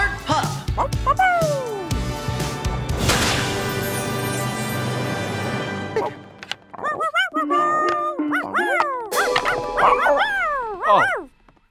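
A small dog yips and barks, then gives a series of high, sliding whimpers, with other sounds running underneath.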